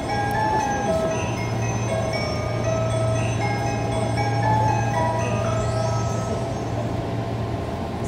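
A Tsurumi Line train, a car formerly used on the Saikyo Line, runs along with a steady motor whine, sustained tonal hum and rolling rail rumble heard from inside, constant throughout.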